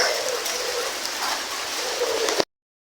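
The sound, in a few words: rain falling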